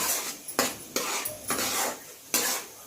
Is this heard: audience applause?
no